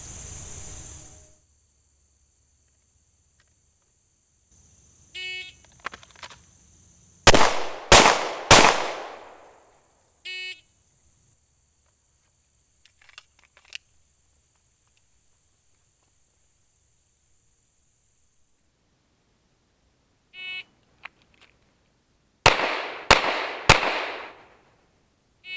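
Three sharp, loud pistol shots from an M&P40 handgun ring out in quick succession at an outdoor qualification course, amid scattered clicks and handling noise; no one talks.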